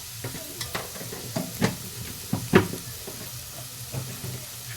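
Vegetables fry in a pan for chili chicken, a soft sizzle broken by repeated knocks and scrapes of a spatula stirring, a few of them sharper and louder.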